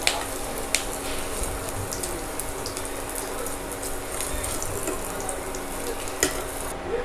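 Garelu lentil fritters frying in hot oil, a steady crackling sizzle with scattered bubbling pops and an occasional clink of a utensil.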